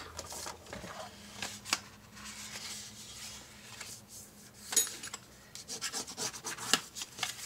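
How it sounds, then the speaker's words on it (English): A bone folder rubs along score lines on paper, producing soft, repeated scraping and rubbing strokes close by at low volume, with a few sharper taps in between. "So you're going to burnish all your score lines."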